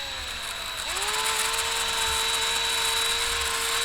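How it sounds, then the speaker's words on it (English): A drill spins up a rotary brush rod inside a dryer vent during cleaning. Its motor whine climbs in pitch and then holds a steady, close hum with a faint rattling scrape over it. "hook it up to your drill. Always go clockwise."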